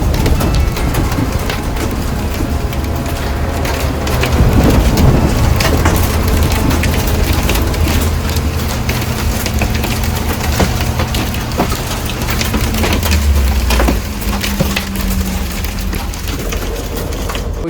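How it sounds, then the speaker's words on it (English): Hail pounding steadily on the roof of a tiny home parked during a storm with a flood warning near New Orleans, a loud dense drumming roar with sharp cracks throughout, unbroken and close. "that's when I realized that it was hail coming down"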